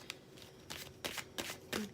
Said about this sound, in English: what I'm gonna do is I'm gonna shuffle the cards